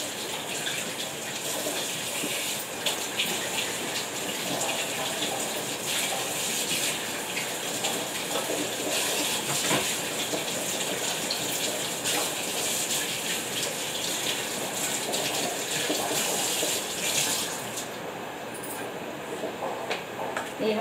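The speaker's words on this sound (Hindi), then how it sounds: "मूली भी धो के रख रही हूँ" Tap water runs steadily while radishes are washed under it in a home kitchen, a continuous close splashing gush lasting throughout with no one talking.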